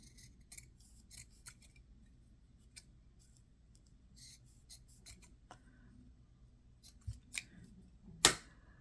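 Scissors cut fabric in short, scattered snips, quiet and close, with soft rustling between them and a sharper clatter near the end.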